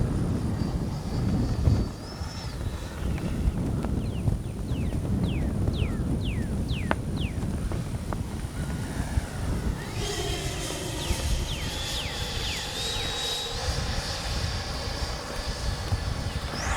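A Freewing 90mm F-22 V2 radio-controlled jet flying overhead, its electric ducted-fan whine sweeping and shifting in pitch as it passes, carrying on steadily with no one talking.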